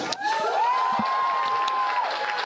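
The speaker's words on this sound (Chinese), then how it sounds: "这间民间太空公司的员工拢欢喜甲拍手欢呼" Staff at a private space company's control center cheer, whoop and clap together as their lander touches down on the Moon, a loud crowd roar with a sustained whistle riding over it.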